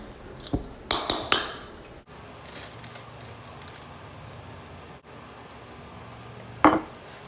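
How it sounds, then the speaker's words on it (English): A spatula spreads granola across a prepared pan: a few sharp clicks and scrapes clustered early, then quieter shuffling, with one more knock near the end. "pour the granola into your prepared pan and use a large spoon to spread it out in an even layer"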